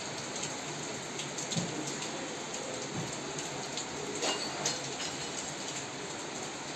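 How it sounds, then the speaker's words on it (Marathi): Steady rain pouring down, a dense continuous hiss with occasional louder patters of drops on surfaces, no voices. "बघा कसं पाऊस पडतोय, एवढा पाऊस पडतोय"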